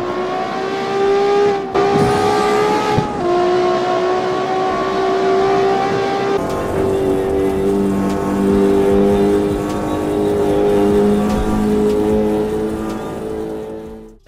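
A car in the racing video game CarX Street revs and accelerates loudly, with engine pitch climbing and dropping through gear shifts and a brief tire squeal, all close and continuous.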